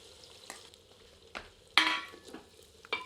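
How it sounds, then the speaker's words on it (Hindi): Finely chopped onions sizzle over medium heat in a clay pot, with soft steady frying broken by a few sharp stirring scrapes and louder bursts of sizzle. "प्याज को मध्यम आंच पर तब तक भूनते हैं जब तक कि प्याज हल्के सुनहरे रंग में परिवर्तित नहीं हो जाती।"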